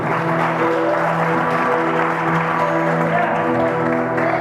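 A church congregation applauding the Lord during a sermon, sustained dense clapping for several seconds, loud and close with a voice or music tones carrying over it.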